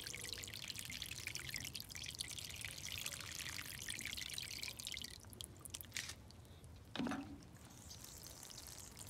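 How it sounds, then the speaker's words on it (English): Rainwater poured over potting soil in a seed-starting pot, a steady close pouring and trickling that runs for several seconds with a few drips, no voices. "it's been raining, so got some rainwater. Just soak it thoroughly."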